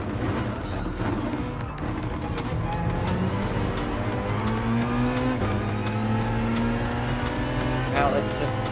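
Alfa Romeo and Ferrari race cars dueling in Gran Turismo Sport, engines droning continuously with rising and falling revs and brief tire squeals, while someone talks over the racing.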